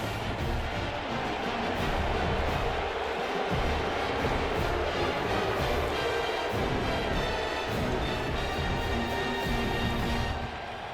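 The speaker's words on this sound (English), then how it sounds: "It's early, but this crowd is fired up. Listen to this noise here." Roaring stadium crowd in an EA Sports College Football video game with LSU, a dense, steady wash of cheering and noise filling the whole stretch at constant loudness.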